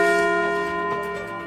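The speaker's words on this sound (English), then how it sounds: "Chester the dog is ringing the Liberty Bell" A dog rings the Liberty Bell replica at a Give Big Kern news segment, one sustained bright metallic bell tone ringing out and slowly decaying, loud and close.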